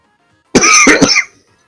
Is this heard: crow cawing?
no